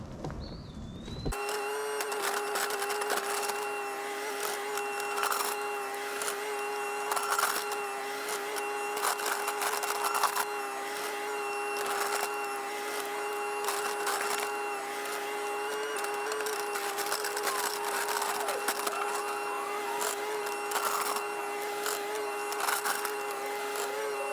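A mini excavator digs a deep trench, its engine drone steady and loud throughout with occasional scraping and clanking of the bucket against soil, no talking.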